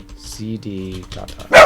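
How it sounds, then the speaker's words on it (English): A dog barks nearby with a sharp yip near the end, mixed in with someone talking over it. "Sorry about my dog barking."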